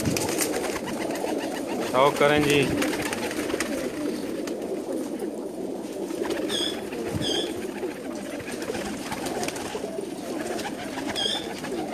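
Pakistani pigeons coo on a rooftop loft, a soft continuous burble of low calls under someone speaking, with occasional sharper chirps cutting through.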